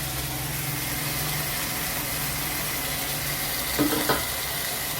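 Cleaned, cut goat lung pieces sizzling in a hot pan, a constant crackling fry with a brief clatter of added pieces and stirring near the end.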